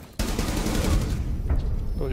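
A burst of rapid gunfire in the video game Rainbow Six Siege erupts suddenly and rattles on continuously, loud and dense, with a voice speaking faintly underneath.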